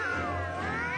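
Cartoon cats caterwaul together in a sustained, wavering chorus of overlapping yowls that slide up and down in pitch, loud and unbroken over a low steady hum, with no talking.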